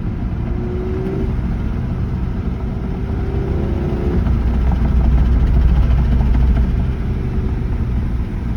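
A manual Audi engine drones loudly from inside the car while driving at night, a low continuous rumble that rises in pitch through gear changes and swells midway, with no voices over it.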